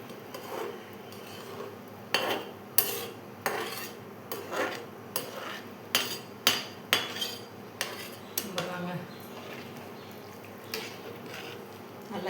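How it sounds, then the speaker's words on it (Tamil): A spoon scrapes and clinks against a metal cooking pot while tomato rice is stirred, giving a close, irregular series of sharp metallic taps and scrapes spread through a quiet room. "நல்லா கிண்டி விட்டுற வேண்டியதான்."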